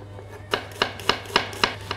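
Knife chopping a cucumber into small cubes or sticks on a board, six crisp, evenly spaced cuts, close and clear over a faint steady hum.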